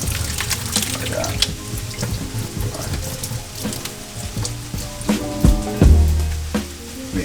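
Water pours and drains through a strainer full of rehydrated TVP at a kitchen sink, a steady splashing flow with a few louder gushes and clatters near the end.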